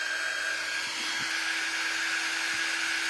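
A hair dryer blows steadily to dry a craft piece with a textured daisy design, a constant close whoosh with a fixed motor whine running alone for the whole stretch.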